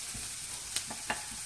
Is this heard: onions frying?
yes